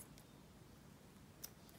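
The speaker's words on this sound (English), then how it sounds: "And then here I can just cut the thread." Scissors snip beading thread on a spiral stitch beaded bracelet, a couple of quick, faint clicks against a quiet background.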